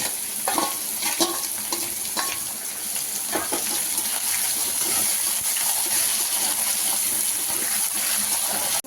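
Thin, long slices of ivy gourd fry in a tempering of spices in a pan, with a steady close sizzle and intermittent scraping stir strokes early on. There is no talking.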